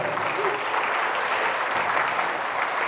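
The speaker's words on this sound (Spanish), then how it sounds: "Den un aplauso al Señor Jesucristo." A church congregation breaks into loud, thick applause, a continuous wash of many hands clapping close by that holds steady from start to finish.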